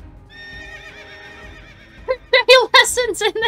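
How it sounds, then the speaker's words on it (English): A horse in a Princess Peach video game whinnies in a long, wavering neigh, followed by a burst of louder, choppy snorting and whinnying calls close up. "Yeah, the horse is back."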